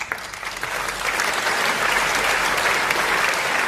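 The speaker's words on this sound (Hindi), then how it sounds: "मुझे लग रहा है कि ES वालों के लिए तालियां ज्यादा बज रही थी" A crowd at an award ceremony for exam rank holders claps steadily in a sustained burst of applause, dense and even throughout, with no voices standing out.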